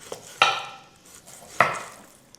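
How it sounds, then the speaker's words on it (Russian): A knife chops raw meat into small cubes on a board, two distinct sharp knocks spaced about a second apart, close and clear with no talking. "Вот так мы нарезаем все мясо."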